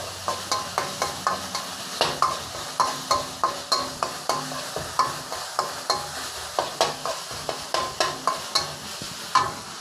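Minced pork with holy basil is stir-fried dry in a pan over medium-high heat, with a steady rhythm of scraping stirs in quick regular strokes over a constant close sizzle and no voices.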